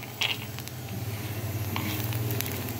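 Chana dal halwa roasting in a pan, a steady close sizzle and crackle with soft stirring scrapes running continuously throughout, no talking.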